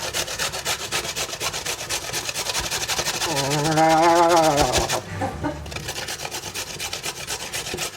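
Carrots rasp against a box grater in a kitchen with fast, rhythmic, close scraping strokes that continue throughout, briefly joined midway by a rising, squeaky tonal sound.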